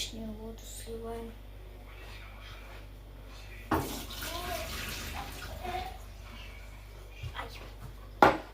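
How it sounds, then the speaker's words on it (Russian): Excess water draining from cooked ramen noodles in a home kitchen, a faint splashing pour that swells at moments amid quiet clatter, with brief sharp knocks near the end. "Излишнюю воду сливаем."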